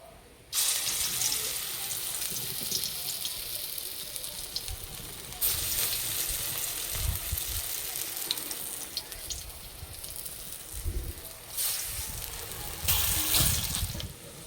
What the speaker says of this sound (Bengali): তেল গরম করে নিয়েছি, এবার বড়াগুলো দিয়ে দেবো।